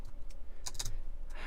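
Steady, close typing on a computer keyboard with a well-worn spacebar, brisk overlapping key clicks with a few louder strokes, no voices over it.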